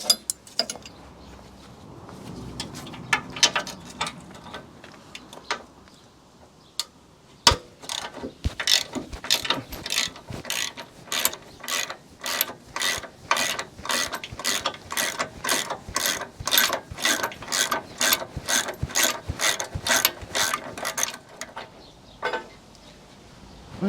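A ratchet wrench clicks rapidly and steadily in a garage as the last bolts come off the bumper of a 4x4 Land Rover-style overland rebuild with a 300Tdi engine, in long close bursts of sharp metallic ticks with brief pauses.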